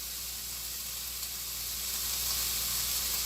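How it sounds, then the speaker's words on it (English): Steady, dense sizzling like food frying on a hot surface, continuous and fairly close for a few seconds, with no talking. "You guys hear the sizzle?"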